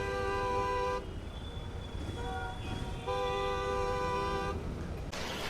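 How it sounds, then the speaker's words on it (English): Vehicle horns honking in Bangalore street traffic, sounding as a few sustained, fairly loud tooting blasts over a constant rumble of road noise. "Do you really have to honk over there?"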